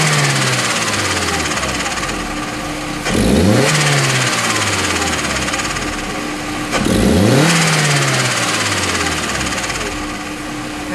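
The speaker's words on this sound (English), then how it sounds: "This is compressor surge." A turbocharged Honda S2000 engine revs twice, each rise followed by the fluttering chatter of compressor surge as the pitch drops, loud and close.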